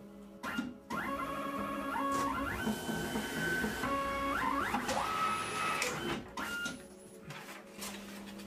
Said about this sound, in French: je peux envisager de remplir un dossier médical avec les antécédents, avec votre dossier complet et pouvoir vous imprimer une ordonnance